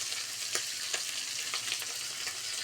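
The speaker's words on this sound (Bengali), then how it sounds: "এখন আমি ফোড়ন দিব।" Bay leaf, dried red chillies and cumin crackle and sizzle in hot oil left from frying prawns, a steady close hiss broken by a few sharp spits, with no voices.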